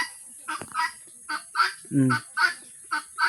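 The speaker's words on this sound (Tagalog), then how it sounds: "yung huni niya parang pabo." Repeated short honking bird calls in a steady rhythm, fairly close, with one lower gobbling burst in the middle, like a turkey.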